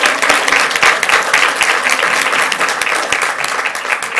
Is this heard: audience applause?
yes